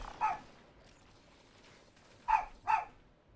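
A dog barks three times nearby, a single short bark followed after a pause by two quick barks close together, over a quiet room background.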